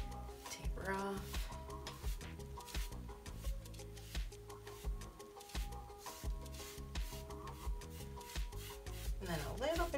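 Soft scratchy rubbing of a paintbrush working acrylic paint onto canvas, repeated short strokes in an uneven rhythm, close and fairly quiet throughout.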